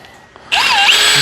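A power drill starts up abruptly and whines loudly at close range, its pitch rising and falling slightly, during setup of an Arizona vortex rope rescue system.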